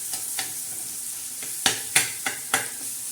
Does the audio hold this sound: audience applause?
no